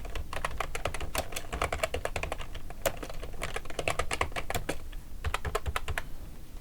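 Rapid, uneven keystrokes clatter on a computer keyboard, close and crisp, with short pauses between bursts of typing and no voices.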